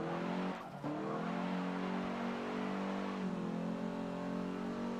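A performance-oriented car in a racing video game, its engine droning steadily with layered harmonics throughout, a brief dip in the roar early on, then pitch shifting as it keeps revving, with no talking.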